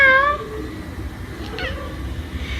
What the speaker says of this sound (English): He likes to meow.